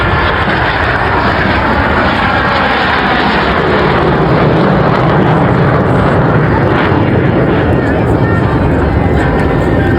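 Tutor training aircraft flying an airshow display at Blackpool, a loud, continuous broadband engine roar that holds steady across the whole stretch without any clear gaps.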